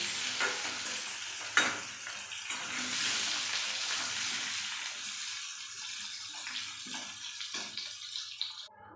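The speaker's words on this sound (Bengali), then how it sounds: "হালকা করে ভেজে নিচ্ছি, তারপরে মশলা দেবো।" Potatoes lightly frying in oil in a pan give a steady broadband sizzle, with a few sharp scrapes and clinks of stirring standing out briefly, close and fairly loud with no talking.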